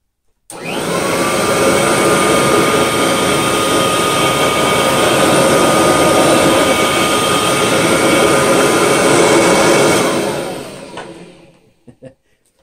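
A Kirby Heritage II Legend vacuum cleaner runs loud and close with its brush roll spinning and the toe touch control set to its lowest setting, a steady roaring whine that holds for about ten seconds before winding down, followed by a couple of small knocks.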